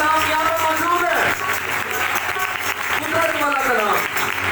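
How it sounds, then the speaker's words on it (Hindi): A worship congregation claps loudly and continuously in a church service, a dense wash of hands that runs under a man's sung or preached voice throughout. "जोरदार ताली बजाएं।"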